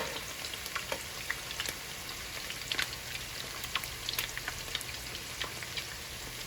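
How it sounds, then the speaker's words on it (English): Tacos dorados filled with cheesy pork crackle and sizzle steadily in hot oil, a dense continuous fry with frequent small pops, close and unaccompanied by voices. "I started to fry my tacos"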